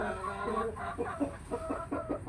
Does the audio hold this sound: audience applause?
no